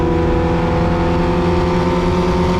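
Vintage Formula Vee race cars roar past on the final lap at Road America, a loud, steady engine drone with rising revs filling the scene, no talk over it.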